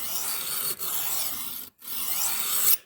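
Knife blade hand-sharpened on cheap diamond plates, giving a close, steady metallic rasp in long strokes with two brief pauses between them and no voices.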